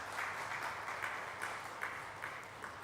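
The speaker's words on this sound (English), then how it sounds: "Can we give him a round of applause?" An audience at a climate finance event applauds as a speaker is called to the stage: a faint, steady wash of distant clapping with no talking over it.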